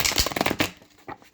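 Tarot cards are shuffled in a quick, crisp riffling burst, followed by a few softer flicks, close by.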